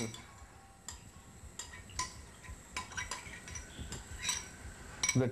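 Cheese pasta roll filling ingredients being mixed together in a bowl, with light ticking clinks of a utensil against the bowl, scattered and moderately soft, alone without talk.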